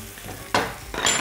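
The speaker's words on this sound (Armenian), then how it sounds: "Թող տապակվի, սունկը տապակվելուս հետո պետք է հանեմ" Mushrooms fry in vegetable oil in a pan, giving a low background hiss broken by two loud bursts of sizzling, each starting abruptly and staying close and bright.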